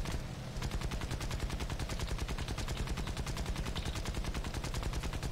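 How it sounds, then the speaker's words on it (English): Rapid automatic gunfire in War Thunder with British Rank 3 vehicles hammers on without pause, a dense, loud, even rattle of shots that fills the whole stretch with no talk over it. "Is that who's shooting at me?"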